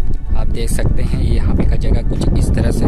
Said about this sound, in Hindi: आज बहुत हवा चल रही है, आपको आवाज़ भी सुनाई दे रही होगी हवा का कुछ ज़्यादा ही।